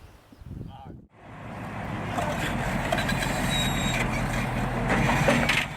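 Heavy mining truck without tire chains hauling a 20-ton load in a remote spot, a loud steady diesel roar with rumbling low end that builds after a brief drop and holds throughout.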